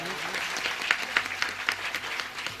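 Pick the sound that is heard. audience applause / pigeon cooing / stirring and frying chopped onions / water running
audience applause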